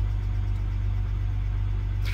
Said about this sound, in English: Let's take a look at the engine. So this is the BMW 2-litre straight six